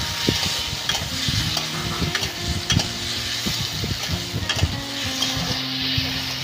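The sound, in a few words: stirring onion, ginger, garlic and chilli paste in pan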